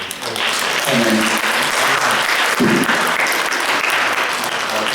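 Loud, sustained audience applause fills a university meeting hall with a guest professor, dense clapping throughout with a few voices briefly audible within it.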